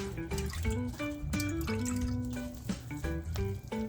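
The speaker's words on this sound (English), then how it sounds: "I'm gonna give it a second strain anyway" Homemade Jamaican ginger beer being strained, liquid dripping and trickling steadily nearby, with a faint tonal hum underneath and no speech.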